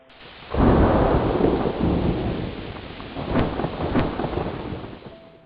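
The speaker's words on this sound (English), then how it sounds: "there was thunder and lightning from the sky, and the waves became rough" A heavy roll of thunder with lightning breaks out over steady rain at sea amid rough waves, rumbling loudly and then easing into a softer wash of rainfall.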